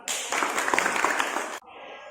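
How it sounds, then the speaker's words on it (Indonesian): Short burst of classroom applause from students, dense and steady for about a second and a half before cutting off abruptly, with no talking over it. "Tepuk tangan dulu."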